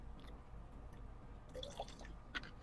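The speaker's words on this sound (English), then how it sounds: "I'm going to put a couple of drops of Super Thrive." A couple of drops of Super Thrive plant liquid falling into a container of water, giving soft, brief drips and small splashes close by in a quiet room, with no talking.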